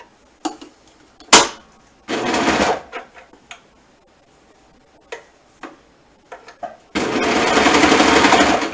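A sewing machine stitching a crossover hack SAL piece runs in short bursts, with a long fast run at the end, separated by clicks and ticks.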